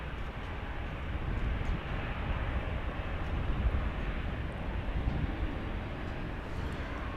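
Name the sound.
American 790 airliner taking off from DFW runway 18 left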